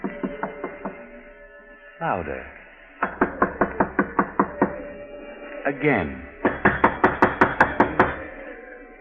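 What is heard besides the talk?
knocking on a door, radio drama sound effect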